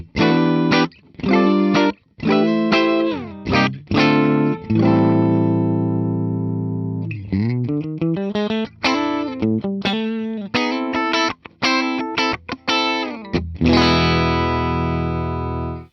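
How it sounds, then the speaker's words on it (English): A bright, slightly overdriven 2023 Gibson 50s Les Paul Standard on its middle pickup plays a riff of quick picked notes and sustained chords, loud and continuous with no voices. "it has a very bright sound for a Les Paul"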